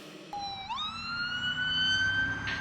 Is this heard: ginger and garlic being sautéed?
no